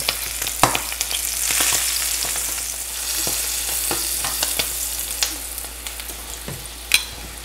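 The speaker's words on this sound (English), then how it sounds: "This cheese is awesome for frying." Halloumi cheese sizzles and spatters in a hot pan, a continuous crackling hiss broken by sharp pops and occasional scraping stirs, close by.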